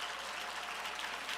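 Continuous broadband applause from a church congregation during a sermon, a steady even wash of many hands clapping with no voices.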